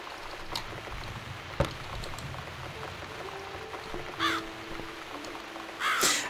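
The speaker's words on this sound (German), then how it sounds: "Damn bird again. Go away." Crow-like bird caws in The Cat Lady game, a few harsh calls near 4 s and 6 s over a steady background of soft patter like rain, with a sharp knock around 1.6 s.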